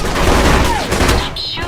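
Gunfire from a third-person spy action game, a loud, dense burst of shots packed close together, with a voice shouting over the noise.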